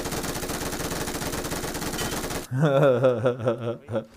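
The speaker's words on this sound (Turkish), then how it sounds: "Arka koltuğa geçip vurdum." Gunfire in the PUBG Mobile game: a dense, steady stream of rapid shots fills the first half, then gives way to louder, uneven in-game sounds and a few separate bursts.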